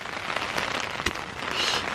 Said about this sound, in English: Guys, actually listen to this rain.